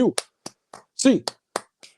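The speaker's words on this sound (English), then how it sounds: "8 clap time, baby" Sports fans clap eight times in a steady count, sharp and close, each clap separated by a short gap, with brief voice sounds between some of them.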